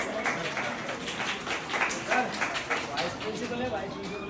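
Applause from a school audience welcoming the director and principal at a Republic Day celebration, a steady patter of clapping that runs throughout at moderate loudness, with some voices mixed in.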